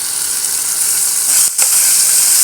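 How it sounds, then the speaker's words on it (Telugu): Chillies, cumin and curry leaves sizzle loudly in about three spoons of hot oil for okra chutney, a steady bright hiss with a brief dip midway before it returns full. "నేను 3 స్పూన్ల ఆయిల్ మిరపకాయలు వేస్తున్నాను."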